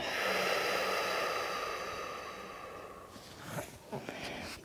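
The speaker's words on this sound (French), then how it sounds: "Et expire, tu souffles." A long, soft exhale through the mouth during a Yin yoga hip session, steady and close, fading gradually over several seconds with faint breathy sounds at the end.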